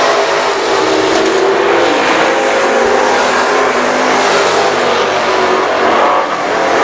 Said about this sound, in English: He is driving the wheels off that race car